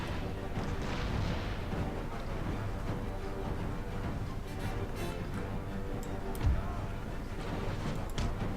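Musket volleys and artillery fire in an 18th-century battle from Empire: Total War during the Great Northern War, a dense continuous rumble of distant gunfire and booms with one louder thud.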